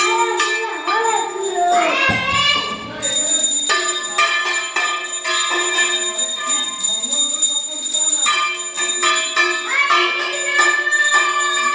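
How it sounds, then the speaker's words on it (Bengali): A child's hand bell rings loudly and repeatedly in bright, metallic bursts, almost without pause, with brief moments of softer ringing between shakes. "ভাইকে নে ঘন্টাটা, ভাই ঘন্টাটা নে।"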